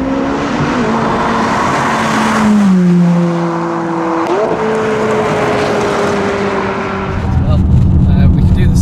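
A McLaren 570S in sport powertrain mode accelerates hard, its engine note climbing and shifting through gears in a loud, close, sustained roar, then dropping away into road rumble.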